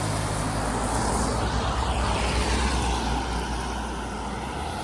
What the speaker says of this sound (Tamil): ஒரு வண்டி வருது போகுது